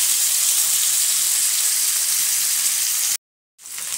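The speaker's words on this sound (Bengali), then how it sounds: "প্রায় 10 মিনিট আমি কচুটা ভাজব।" Taro (kochu) frying in a pan for sahi kochur dom, a steady loud sizzling hiss that cuts off briefly near the end, then resumes.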